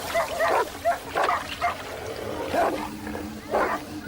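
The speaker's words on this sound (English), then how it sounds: "With sharp claws and powerful teeth, the dogs are formidable enemies." Dogs bark and yip at a cobra in the wild, several sharp, close barks in irregular bursts, some with whimpering edges.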